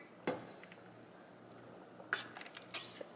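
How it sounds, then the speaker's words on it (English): Sausages and potatoes from a shrimp boil being tipped into a small metal strainer: a sharp clatter, then a quiet pause, then a quick run of scraping and clinking knocks as the food is shaken and gathered. "I'm just gonna strain them in this little strainer"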